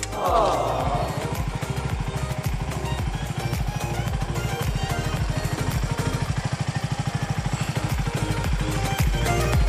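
A CFMoto 300SR 300cc motorcycle engine idles nearby with a steady, throbbing low rumble and rapid even pulses, holding the same pace throughout.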